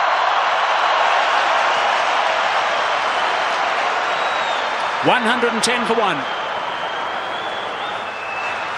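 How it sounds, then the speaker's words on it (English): A cricket stadium crowd roars in a continuous, loud wash of cheering during a tense South Africa one-day international run chase, with a commentator's voice briefly over it. "Listen to the crowd."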